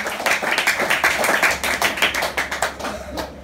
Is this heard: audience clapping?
yes